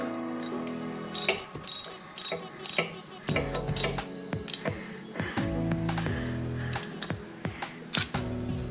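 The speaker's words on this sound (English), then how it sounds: "I'm going to take this filter wrench and I'm going to put it on top of the filter just like this" A filter wrench works on the oil filter of a Honda CB500X motorcycle, giving repeated metallic ratcheting clicks and clanks in irregular bursts, close and fairly loud, with no talk.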